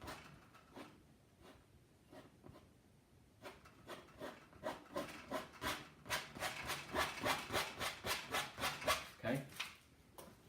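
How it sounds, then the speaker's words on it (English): A palette knife scrapes excess wet oil paint across a canvas during a wet-on-wet landscape, a run of rhythmic rasping strokes that start sparse and quiet, then grow louder and quicker, close up and without speech. "scrape off all this excess paint"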